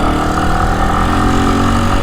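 A motorcycle engine runs with a loud, steady, close-up drone, unbroken for the whole moment, with no voices.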